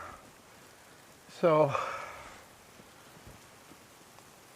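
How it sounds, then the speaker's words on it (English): Rain falls outdoors among trees at a deck-building site in the North Shuswap, a soft steady patter throughout, briefly interrupted by a single spoken word. "and then it starts raining harder"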